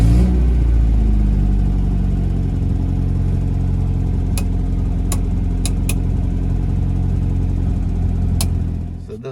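A 1964 Austin A60 engine runs loud and close with a steady low rumble, broken by a few sharp clicks and fading slightly at the end.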